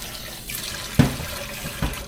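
Tap water running into a small pot of rice, a soft steady flow with a couple of brief splashy bursts, close and faint with no talk.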